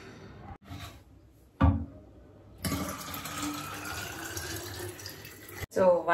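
A hot water tap runs in a home kitchen, a steady close rush of flowing water lasting about three seconds after a few soft knocks, with a voice briefly heard near the end.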